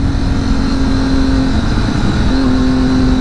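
A Triumph Daytona 675 three-cylinder sport motorcycle engine runs close and loud, holding a steady rumbling note with a brief dip and recovery in pitch partway through, with no voices.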